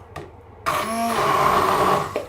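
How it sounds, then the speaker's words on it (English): A hand blender whirs steadily through vegetables in a high-sided bowl for vegan meatballs, starting after a brief click and running loud and close for about a second and a half before easing off. "And I'm moving the blender around"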